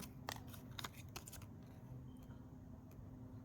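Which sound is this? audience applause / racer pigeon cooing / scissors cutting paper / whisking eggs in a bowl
scissors cutting paper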